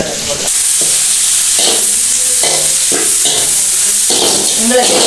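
Kottu roti is chopped and stir-fried on a griddle with loud, repeated metallic blade clatter in bursts over a constant hot sizzle, close and dominant.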